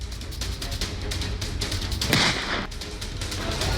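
Rapid bursts of gunfire crackle continuously amid noisy background at an airport in Afghanistan, dense repeated shots at a distance with no speech.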